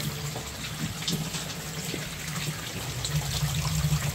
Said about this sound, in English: And here's that water leaking out.